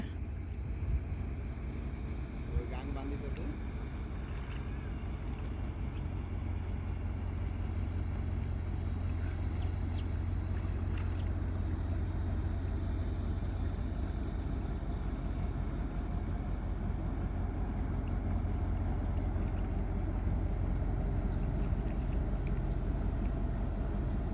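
A ship moving on open water during a fishing trip, heard as a steady low rumble and wash that stays constant throughout, mixed with wind noise on the microphone and no talking.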